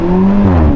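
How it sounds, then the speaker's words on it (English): Lamborghini fitted with a Capristo exhaust revs hard, a loud, close, steady engine roar with strong low harmonics that climb and shift through a brief rev. "What exhaust do you have on this thing? It's a Capristo."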